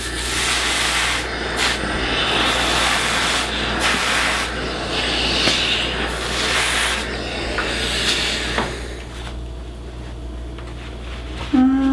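A steam iron pressing fusible interfacing onto fabric on the wool setting, giving a steady breathy hiss with bursts of steam and soft rubbing strokes that run for several seconds and then ease off near the end.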